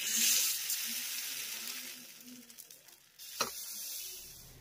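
Chitoi pitha rice cakes frying in a pan give a close, steady sizzle and hiss that fades slightly, then a sharp brief clatter and a renewed burst of sizzling near the end, with no talking.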